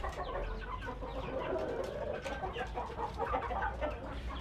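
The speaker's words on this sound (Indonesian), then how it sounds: "Cek ayam semuanya kondisinya sehat" Farm chickens cluck and chatter continuously at a low level, several birds overlapping in short irregular calls against a faint background hum, with no one speaking.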